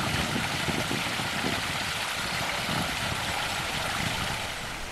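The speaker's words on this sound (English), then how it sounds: "These are the Cascades, more of a trickle today." A small water cascade trickles at Painshill Park, fed toward the Serpentine Lake: a continuous, fairly loud rushing wash of water with no pauses and no voices.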